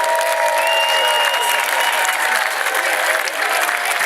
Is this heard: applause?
yes